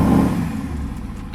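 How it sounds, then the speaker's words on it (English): A naturally aspirated V8 in a Mercedes SLS bursts loudly to life at startup, then settles into a deep, rumbling idle that rolls on steadily up close. "It just sounds godly."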